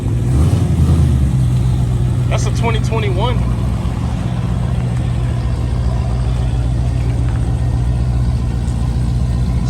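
A cammed 5.7L Hemi V8 in a Chrysler 300S rumbles loud and steady up close, while someone talks over it.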